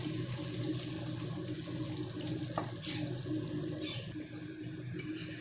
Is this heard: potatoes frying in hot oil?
yes